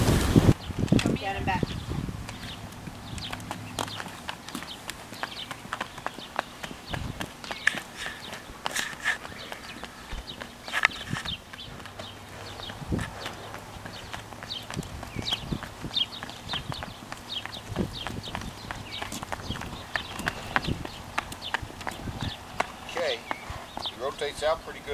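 Hooves of a chestnut colt clip-clop at a walk during a Fasig-Tipton horse sale inspection, a steady uneven patter of hoof falls running under near-constant talk from people nearby.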